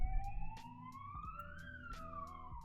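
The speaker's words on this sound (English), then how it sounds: "Ooh, ambulance." An emergency siren wails in a rising and falling tone, heard faintly at a distance over a low background hum.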